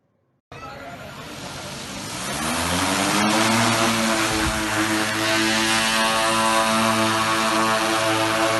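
A healthcare delivery drone used in COVID-19 operations flies nearby, its propellers building into a loud, steady buzzing whine with rising harmonic tones that holds for several seconds after a short silence.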